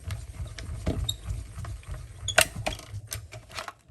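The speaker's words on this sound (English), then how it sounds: "Run it through our Stampin' Cut and Emboss machine." A Stampin' Cut and Emboss machine cranks paper and a die through its rollers, giving a quiet mechanical patter of small clicks and ratcheting taps, with one sharper click partway through.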